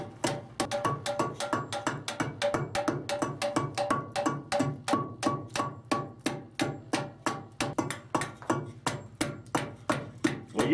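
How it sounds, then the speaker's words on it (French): A mallet strikes a chisel on stone in a steady, regular rhythm, each blow a sharp ringing tap with a short resonant tail, close and alone without talk. "on a la joie d'entendre le tintement de la pierre, la résonance"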